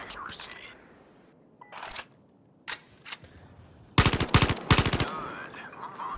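Gunfire in the VR shooter Zero Caliber after a fire-mode change: a few scattered single shots and clicks, then a rapid, loud automatic burst near the end, with a voice speaking faintly under it.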